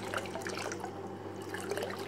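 A steady, fairly quiet flow of water pours out of an air source heat pump feeding a Lay Z Spa, with a continuous trickle and low hum underneath and no talking.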